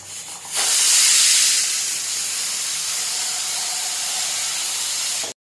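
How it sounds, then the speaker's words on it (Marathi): A pressure cooker on high heat releases steam in one long, loud hissing whistle that starts abruptly, stays steady for several seconds, then cuts off sharply. "हे पहा कुकरची एक शिट्टी झाली आहे"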